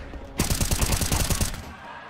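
Rapid automatic gunfire in the Counter-Strike video game: a loud, dense burst of shots lasting about a second, fired close by, followed by quieter game ambience.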